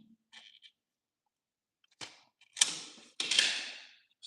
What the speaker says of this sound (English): So the stripper peels off the plastic sheathing.